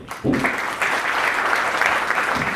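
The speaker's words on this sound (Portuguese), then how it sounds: "Palmas para Eliane aqui" Audience at a hypnosis lecture breaks into applause, a quick swell of steady clapping that holds evenly for a couple of seconds with a voice briefly over it at the start.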